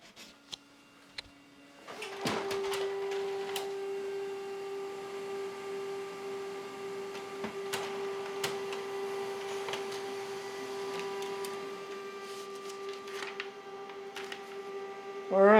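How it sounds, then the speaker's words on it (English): A laser printer runs a print job, starting with a click and then a steady mechanical hum with faint ticks and rattles for over ten seconds, fairly quiet, ending in a louder clunk as the page feeds out. "We're going to print. I got to pick the laser printer."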